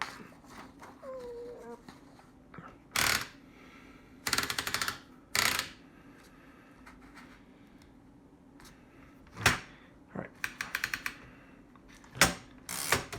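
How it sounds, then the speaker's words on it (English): An antique Smith Premier No. 2 typewriter clatters in short loud bursts of rapid key strikes, separated by pauses and occasional single clicks, close and clear. "Let's get a little short typing sample demonstration of the Smith Premier number 2."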